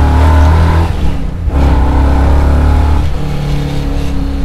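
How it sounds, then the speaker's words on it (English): A 600 hp V8 in a custom 1968 Camaro revs hard through open Hooker headers, loud and close, with a deep rumbling exhaust note rising and dropping twice. "Those hooker headers just sound killer on here."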